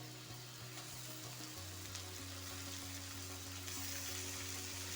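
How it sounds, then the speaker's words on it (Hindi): Chicken liver (kaleji) frying with turmeric in a pan, a steady close sizzle and crackle running throughout with a low continuous hum underneath. "अभी कलेजी को 2 मिनट हम फ्राई कर लेंगे"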